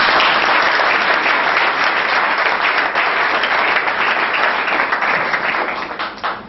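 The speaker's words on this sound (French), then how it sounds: "je voudrais aussi que vous méritez les applaudissements pour ce courage politique" Sustained applause from an audience at a political gathering, a dense, loud wash of clapping that holds steady throughout and begins to thin near the end.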